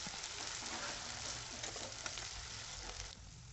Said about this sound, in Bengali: পেঁয়াজটাকে ভালো করে নেড়ে নেড়ে ভেজে নিচ্ছি।